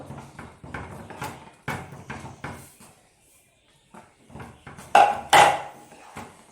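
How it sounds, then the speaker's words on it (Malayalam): A spoon stirring vegetable rava upma in a pan, giving a run of scraping, clinking strokes at an uneven rhythm, then a short pause and a few louder metallic knocks against the pan. "ഇട്ട് കൊടുക്കുമ്പോൾ തന്നെ നന്നായി ഇങ്ങനെ ഇളക്കി കൊടുക്കും വേണം"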